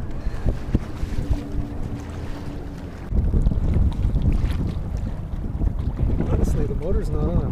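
Wind buffets a small 8 ft DIY electric featherweight boat on open water with its motor off, heavy gusty rumble and microphone noise, with faint water sounds and a voice in the background.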